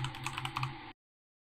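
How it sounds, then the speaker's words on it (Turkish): Quick rapid keystrokes on a computer keyboard while typing an email address, a close, fairly quiet burst of clicks lasting under a second before stopping abruptly. "Twitter adresimi yazıyorum ve e-mail adresimi yazıyorum."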